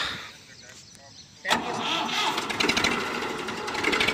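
Massey Ferguson 1035 tractor engine cranks briefly and then fires up close by, settling into a loud, rough diesel idle, with a voice speaking just before it starts.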